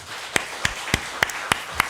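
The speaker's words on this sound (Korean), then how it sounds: "박수하겠습니다" A church congregation welcomes new members with sparse, spaced-out clapping, about six distinct claps at an even pace in a large room, with no talking.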